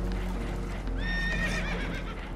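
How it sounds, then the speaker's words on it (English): Spooked horses whinny and neigh over a steady rumbling background in Red Dead Redemption 2, several rising calls close together over a couple of seconds, with hoof clatter mixed in. "Horses are spooked, and we're taking on water."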